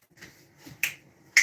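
Two crisp finger snaps, sharp and close, spaced about half a second apart, preceded by faint quiet movement in an indoor room.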